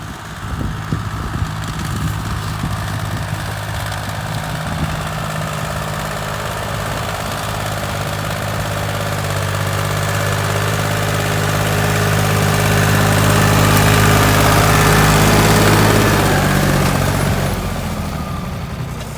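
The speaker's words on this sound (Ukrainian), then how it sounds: "В принципі, тракторець тягне добре." A Dongfeng 254 tractor engine runs steadily nearby while pulling a disc harrow over frozen ground, a low rumbling drone with a vibrating throb that swells a little louder toward the end.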